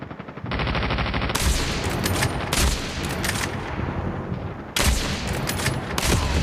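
Sniper rifle shots in the shooter game Call of Duty Mobile, loud sharp cracks repeating across the clip among other game noise, with no talk.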